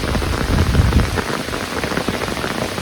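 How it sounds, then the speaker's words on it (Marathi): Heavy rain pouring down over open farm fields, a dense steady hiss of drops with no voices, loudest in the first second and holding strong throughout. "बेकार पाऊस आला या."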